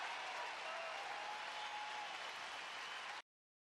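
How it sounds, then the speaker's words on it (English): Stadium crowd applause in the baseball video game OOTP 23, a steady, even roar of clapping held at constant level before cutting off abruptly to silence. "Even Tampa Bay players are applauding."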